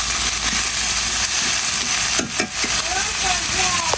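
Curry sizzling and frying in a pan while being stirred, a steady close hiss with a few scraping stirs and faint clinks of the spoon partway through.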